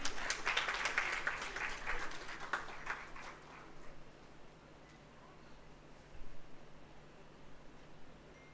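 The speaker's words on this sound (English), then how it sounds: "A big round of applause for all the quiz participants, please." Audience applause for quiz participants at a live medical education session on pediatric cancers, a burst of clapping for about three seconds that quickly thins and fades to quiet room noise, with a faint brief patter later.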